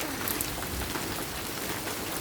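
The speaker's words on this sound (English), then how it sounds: "heavy, very heavy hail." Heavy rain and hail pounding down during a storm, a dense, constant hiss of impacts throughout with no break.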